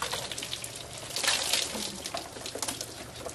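Water splashing and gushing while an electric pan is cleaned, a continuous close rushing pour with bursts of splatter.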